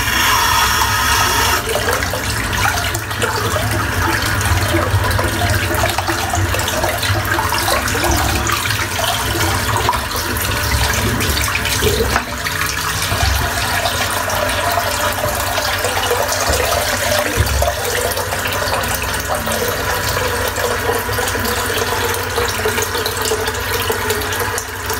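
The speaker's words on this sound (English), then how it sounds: "Just going to empty the sink out." Water draining from a bathroom sink during a head shave: a steady, loud rush and gurgle of running water that continues without a break.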